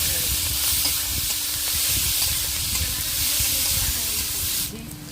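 Chopped onions and dried chillies fry in hot oil in a pan, a loud continuous sizzle and hiss with occasional stirring clatter, close up, easing slightly near the end.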